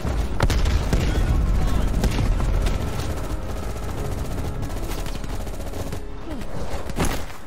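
Dense, loud gunfire in a firefight in Call of Duty Cold War, with continuous bursts and booms throughout and speech mixed in.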